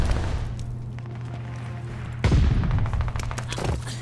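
Gunfire in a first-person shooter match, a dense volley of shots erupting about halfway through over a steady low hum, with faint talk beneath.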